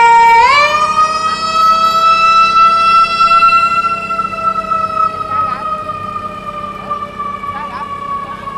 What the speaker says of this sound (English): I am getting an ambulance passing right by.